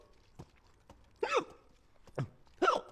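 A person hiccups in a short action film scene set in a class being scolded, with about four sharp, separate hiccups spaced across a few seconds, the last ones loudest, and no talking over them.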